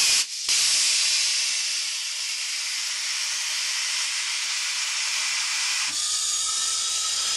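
Air hisses steadily and loudly into a Corvette tire being inflated on a tire changer, a brief break near the start, with no voices.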